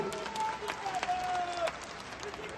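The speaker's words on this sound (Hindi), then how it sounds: "आप इनके लिए एक बार जोर से ताली बजाइए।" Audience applause at a political party announcement event, a steady crowd clapping throughout with a voice faintly over it.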